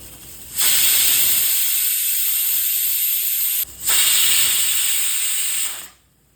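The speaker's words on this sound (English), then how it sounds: "So as you can see, the whistles have started." Loud, steady hiss of steam blasting from a pressure cooker whistle while cooking dal on a gas stove, two long bursts with a brief break between them.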